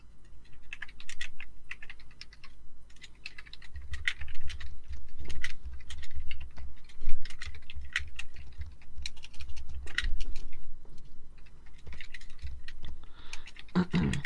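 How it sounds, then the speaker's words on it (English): Keys on a computer keyboard clatter in irregular bursts of close, crisp clicks for about fourteen seconds, with a low hum underneath and a louder thump near the end. "Sorry, I'm just typing something out."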